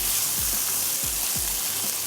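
Potato and onion sabzi sizzles in a pan as it is stirred, a continuous close frying hiss broken by several soft scraping strokes of the spoon.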